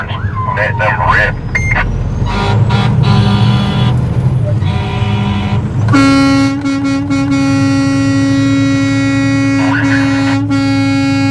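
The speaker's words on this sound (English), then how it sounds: "The workers here want to hear those horns. Let them rip." Air horns from trucks in a convoy blast loudly and steadily through the second half, a long sustained tone following earlier bursts, with engine rumble and traffic noise underneath and some talk early on.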